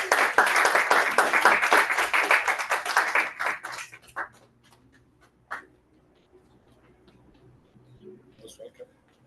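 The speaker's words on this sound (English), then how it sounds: "A round of applause." Audience applause at a Toastmasters club meeting, a dense burst of clapping for about four seconds that quickly thins to a few scattered claps and near silence.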